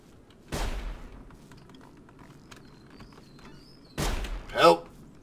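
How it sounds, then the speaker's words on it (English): Gunfire from robots in the video game Sir, You Are Being Hunted: two isolated sharp shots a few seconds apart, moderately loud over a quiet background, the second one followed by a brief scraping rattle. "Oh, they're shooting at me."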